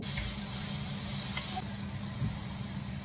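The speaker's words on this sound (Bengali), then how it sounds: "কড়াইয়ে অল্প একটু তেল দিলাম, এরপর সবজিগুলো দিয়ে আর একটু নুন দিয়ে একটু নাড়াচাড়া করে নেব" Vegetables fry in a little olive oil in a wok, giving a steady, close, even sizzle that runs for the whole moment, with a brief stirring scrape midway.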